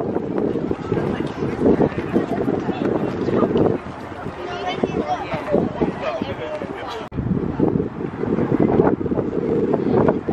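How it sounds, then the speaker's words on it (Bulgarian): Strong, cold wind buffets the microphone outdoors in Washington, DC, a steady loud rumbling roar with gusts and a brief dip midway, while a person talks over it. "доста духа и е студено"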